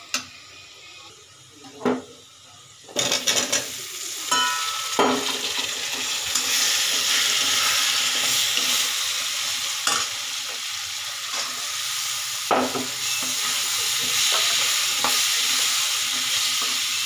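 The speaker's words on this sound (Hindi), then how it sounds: "थोड़ी देर इसको भूनेंगे।" Mixed vegetables with cauliflower, salt, coriander powder and garam masala frying and being stirred in a pan, a steady close sizzle with occasional scraping and clatter of the spoon, no talking.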